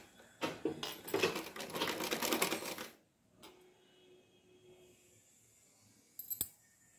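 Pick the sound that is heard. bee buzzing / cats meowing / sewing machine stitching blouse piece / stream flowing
sewing machine stitching blouse piece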